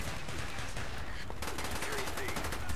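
Rapid automatic gunfire in a Call of Duty Black Ops multiplayer Domination match, a dense run of shots with clattering bursts and game effects, fairly faint under the overall game mix.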